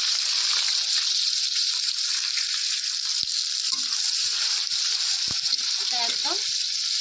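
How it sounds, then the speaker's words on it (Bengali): Onions for chicken biryani fry in hot oil with a loud, dense, continuous sizzling hiss close up, plus a few brief knocks and stirring sounds. "এবার আমরা বিরিয়ানির জন্য পেঁয়াজগুলো এবার ভেজে নেবো লাল করে"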